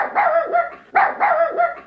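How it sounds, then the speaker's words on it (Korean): A dog's barking sound effect from an Entry block-coding program rings out twice in quick succession, close and clear, with no voices around it. "지금 강아지 짖는 소리도 들리죠"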